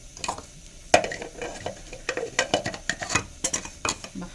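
Onion and garlic sautéed in a pan, with a spoon scraping and clinking against the metal in quick irregular strokes over a soft, steady sizzle, close and moderately loud.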